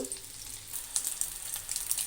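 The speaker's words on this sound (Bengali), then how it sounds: "আমি ডিমগুলো দিয়ে দিয়েছি ডিমগুলো আমি ভেজে তুলে রাখবো" Eggs frying in a pan, a close, soft hissing sizzle with small bubbling crackles that swell and fade over a couple of seconds, without speech.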